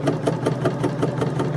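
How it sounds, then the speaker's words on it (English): A sewing machine stitching fabric, a steady fast mechanical hum with rapid regular clicks, close and continuous over a short run. "So just going to continue sewing"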